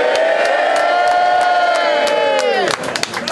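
A rap battle crowd at a Black Diamond Battle League event roars with loud, sustained cheering and whooping that swells throughout, then drops sharply before scattered shouts return.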